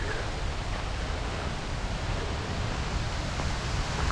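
Waterfall at Lake Manapouri's South Arm, a steady broadband rush of falling water that holds at an even level from start to finish with no voices.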